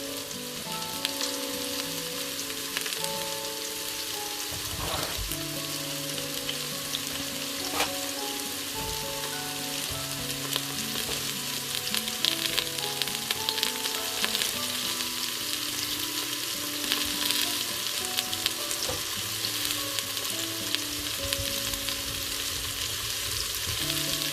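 Onions fry in a pan as the base for a homestyle lamb curry, a continuous even sizzle like light rain, with a faint steady hum in the background and no speech.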